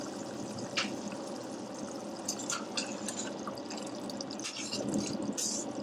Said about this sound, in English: just check the lamb, give it a stir.